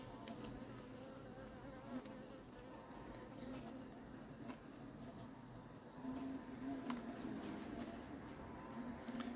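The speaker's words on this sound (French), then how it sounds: "il va entendre les frelons dans la bouteille et ça va l'attirer" Hornets caught in a bottle trap at a beehive apiary drone and buzz continuously at close range, a steady insect hum running without a break, with a few faint bird coos in the background.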